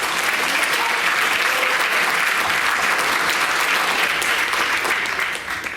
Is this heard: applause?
yes